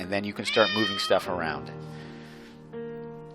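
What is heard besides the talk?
cat meowing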